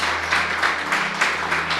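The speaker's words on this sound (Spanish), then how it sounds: "Un aplauso para Jesús." A church congregation clapping for Jesus during a Sunday service, a quick run of claps rising and falling in uneven bursts, fairly soft and heard alone.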